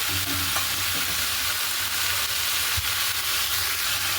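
Potato curry with poppy seeds being stirred in a pan, a loud continuous sizzle with repeated scraping strokes and a sharp knock near the end.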